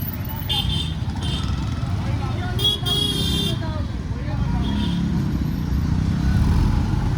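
Congested road traffic with idling cars and motorcycles, steady engine rumble throughout and a couple of short horn toots, with people talking over it.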